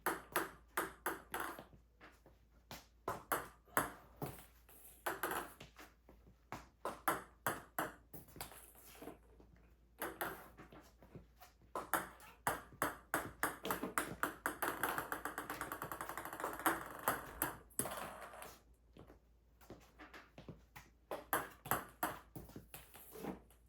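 A table tennis ball is struck in repeated underspin serves, giving crisp ping-pong taps and quick bounces on the table in an irregular rhythm, close and clear, with a brief busier stretch of rapid bounces in the middle.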